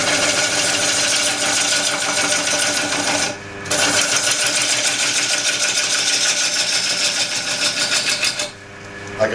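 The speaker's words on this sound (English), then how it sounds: "I'm shear cutting." A wood lathe shear-cuts an old wood platter, producing a loud, continuous roaring whir. There is a brief dip just after three seconds and another near the end as the cut eases off.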